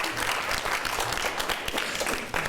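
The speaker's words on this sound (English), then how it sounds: "You don't have to clap for me twice" Dense, steady audience applause from a room at a student government meeting, many hands clapping together without a break.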